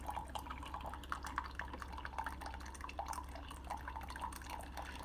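Keurig K-Supreme Plus coffee maker during a rinse cycle, faint water drips falling in an irregular, quick patter over a low steady hum, with no voices.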